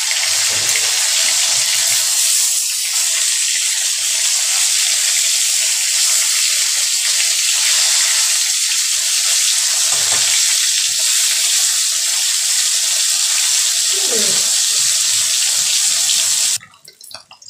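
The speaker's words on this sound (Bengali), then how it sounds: "এবার মাছগুলোকে আমি একে একে উল্টে দেবো।" Snakehead fish pieces fry in hot oil as a loud, continuous, dense sizzle, with a few soft thuds and spatters as the fish is turned over one by one, and the hiss cuts off abruptly at the end.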